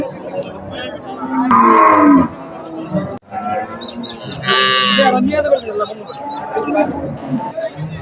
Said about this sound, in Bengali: এই যে দেখুন গরুটা